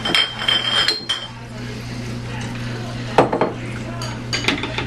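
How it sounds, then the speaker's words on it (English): Glass wine bottles clink and knock together as they are set out for bottling homemade wine, with several sharp close clinks at the start and again past the middle over a low background hum. "I'm going to set up about 6 of these bottles."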